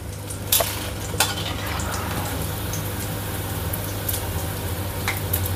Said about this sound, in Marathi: आणि बाकीचे झालेले आहे ते तळून घेऊया.